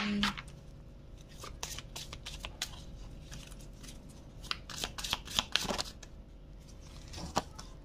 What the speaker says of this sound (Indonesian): Oh, tadi maunya aku keluarkan ya kartunya sebentar ya satu kartu dari Rumi